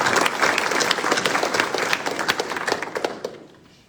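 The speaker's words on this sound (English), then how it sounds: "All right, round of applause." Applause for the organizers at a military change-of-command ceremony: a dense crowd clapping loudly, thinning into scattered claps and fading out at the end.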